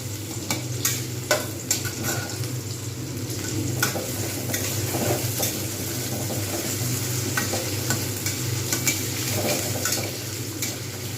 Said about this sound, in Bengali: এখানে যে তেলটা রয়েছে এইটা দিয়ে আমি পেঁয়াজ দিয়ে দেবো। পেঁয়াজটাকে একটু ভালো করে ভেজে নেবো।